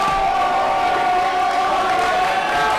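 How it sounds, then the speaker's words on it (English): Crowd at a high school varsity boys basketball game cheering and shouting in a steady, loud roar that fills the gym throughout. "it looks like the Frisch crowd is fired up"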